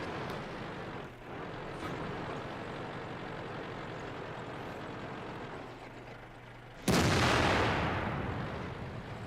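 A Tiger I tank cannon in the game World of Tanks fires blindly, one sharp loud boom near the end that decays slowly over a steady rumbling engine and battle noise.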